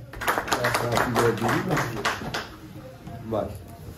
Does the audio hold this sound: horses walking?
no